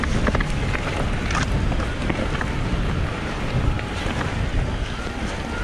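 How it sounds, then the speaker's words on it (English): Blustery wind buffets the microphone on a mountain bike trail in Snowdonia after rain, a continuous rough rumble with gusty swells, loud and close throughout. "At least the rain stopped, it's just a bit blustery now."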